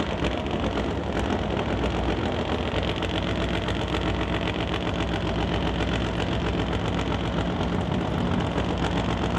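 A Top Fuel Harley drag motorcycle engine running on nitromethane chatters loudly at a steady idle, with a rapid, rough pulsing beat that carries evenly from start to finish.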